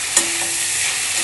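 Food being flipped in a hot frying pan while cooking kabsa, a brief soft scrape over a steady, close sizzle.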